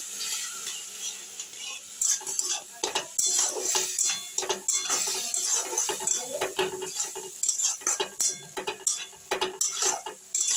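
Cashew and poppy seed paste stirred with a little water in a pan for a vegetarian paneer dish: repeated irregular scrapes and clinks of a spatula against metal over a faint low sizzle.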